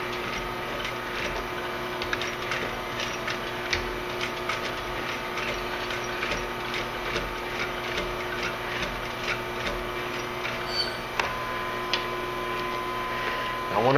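A sewing machine stitches a leather cap with a steady mechanical hum and regular rapid ticking, running on continuously at close range without a break.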